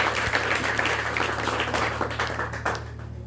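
A church congregation claps together in a dense, steady burst of applause over a low electrical hum, which thins out and fades near the end.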